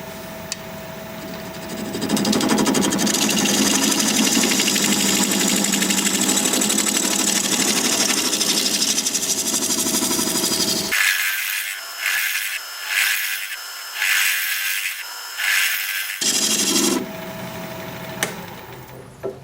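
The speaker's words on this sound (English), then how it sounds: "I guess I'll change to a 1/2 inch bowl gouge or make that recess." A half-inch bowl gouge cuts a recess in a spinning healed-over branch section on a wood lathe. It makes a steady loud scraping whir for about ten seconds, then gives way to a run of short, bright, choppy cuts.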